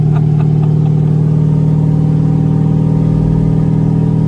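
An LS V8 car running on ethanol fuel, its engine droning loudly and continuously up close in a steady low rumble, with no voices.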